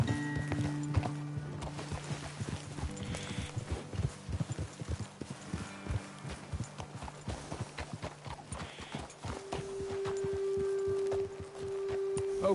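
Horses walk along a road in Red Dead Redemption 2, their hooves clip-clopping in a steady, fairly close rhythm over soft ambient music, with a brief whinny and no talk.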